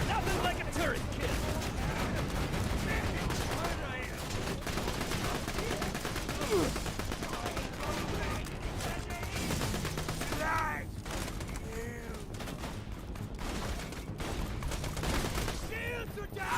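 Rapid bursts of turret gunfire in Borderlands 2 rattle through a busy firefight, dense and continuous with layered shots and mechanical clatter, while a voice speaks over parts of the action.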